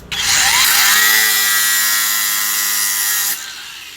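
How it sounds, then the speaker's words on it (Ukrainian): An angle grinder grinds a metal sample for a spark test, a loud, close, sustained high-pitched whine that spins up, holds steady for about three seconds and then cuts off. "Потім беремо болгарку. І по іскрі ми зразу можемо зрозуміти, кобальт, нікель це чи залізо"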